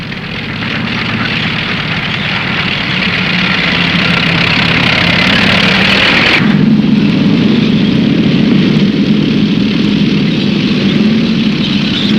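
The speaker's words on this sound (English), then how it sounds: "A British scout car advances along the northern flank. American half-tracks follow on reconnaissance." A British scout car followed by American half-tracks advancing on a North African front, a loud continuous engine drone that shifts in tone partway through, with heavy low rumble throughout.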